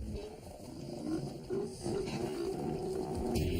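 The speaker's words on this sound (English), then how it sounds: "This is a sea lion haul out. It's one of the local areas where all the sea lions sun themselves." Sea lions at a haul out in Alaska, a chorus of deep, rough roaring barks and growls from a crowded group, fairly close and continuous, with no talk.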